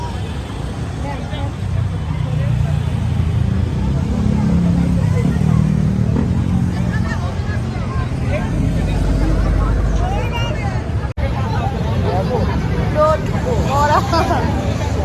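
A line of women bikers rides Yamaha motorcycles past in a Women's Day rally, their engines droning beneath a busy hubbub of crowd chatter and nearby voices, with a brief sharp knock near the end.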